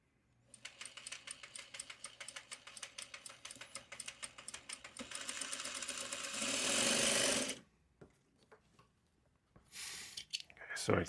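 A sewing machine stitches a pleat in fabric, running in a fast, rhythmic, accelerating whir of close, loud needle strokes. It then stops abruptly and starts again briefly while a person talks.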